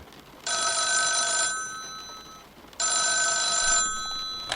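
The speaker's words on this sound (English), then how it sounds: "the phone decided to cut in" An office telephone in a noir detective audio drama rings twice with a bright electronic bell, each ring lasting about a second, separated by a pause. The rings are loud and close, with no talking.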